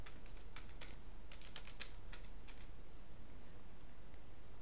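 Someone types a phone number on a computer keyboard: quick, irregular bursts of clicking keys over a steady background hiss, fairly faint and close, with no speech.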